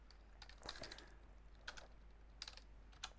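Someone types on a computer keyboard at a PC in a quiet room, a few scattered, soft clicking keystrokes in irregular bursts.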